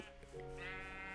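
Sheep bleating in Minecraft, a single wavering game-animal bleat with a nasal harmonic tone that swells and holds steady for about a second, heard alone at moderate volume.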